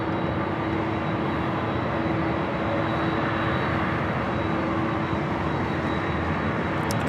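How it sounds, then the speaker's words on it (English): A jet airliner, an American Airlines A321 arriving from JFK on the north side of Los Angeles LAX, makes a steady, broad engine roar that holds loud and even throughout, with no voices. "Next arrival here on the north side is American Airlines, flight 3, coming in from JFK, A321."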